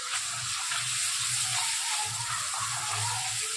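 A spiced tomato and onion gravy sautés in a pan, giving a steady, close sizzle with a broad frying hiss and faint stirring underneath, continuous and without speech.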